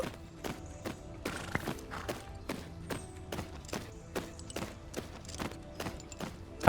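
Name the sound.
horse walking hooves clip-clop, in a horse riding video game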